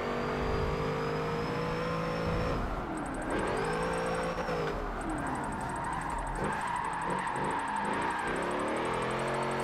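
A car engine revs hard and bounces off the limiter while drifting in the racing game Forza Motorsport 7, driven with a steering wheel. The sustained, loud engine note rises and dips as the throttle is worked through the slide.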